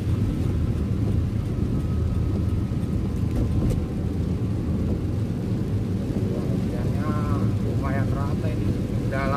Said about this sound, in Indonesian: Hujan ini daerah Serpong